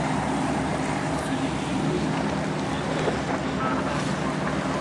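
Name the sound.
Nautica Queen ship passing at air show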